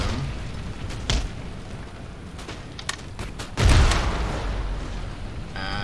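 Cannon fire in a Napoleonic-era battle from Empire: Total War, with scattered sharp booms over a constant rumbling battlefield din, then one heavier, louder blast near the middle followed by sustained roar.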